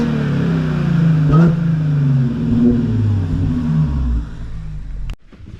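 An Audi S4 with a Jackal Motorsports stage 2+ tune revs hard, the engine note sweeping up and down in a couple of loud, close blips with rumbling exhaust, before cutting off abruptly near the end.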